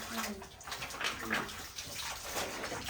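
Water pouring steadily into a tub meant for fish, a continuous close splashing rush that stays even throughout, with faint voices in the background.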